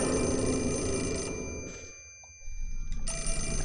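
An electronic telephone rings in the horror video game Project Zero 4, with repeated bursts of ringing over a low hum, a brief lull and then the ringing returning.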